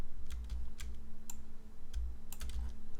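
Several crisp computer keyboard key taps, the down arrow pressed repeatedly in irregular bursts, faint and close over a low steady hum.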